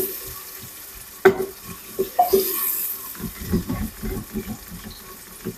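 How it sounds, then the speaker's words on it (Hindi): Onions are lightly sautéed and stirred in a pan, with a soft sizzle under repeated scraping and tapping from the spoon at an irregular pace, close up and fairly quiet. "सिर्फ हल्का सा सौते करना है, सिर्फ 1-2 मिनट के लिए घुमाना है,"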